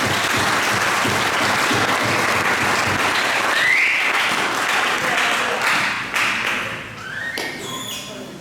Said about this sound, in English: They deserve a big round of applause for their work ethic.